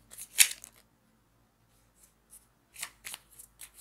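Tarot cards are shuffled in short bursts of crisp riffling and flicking, close and fairly quiet, with pauses between the bursts.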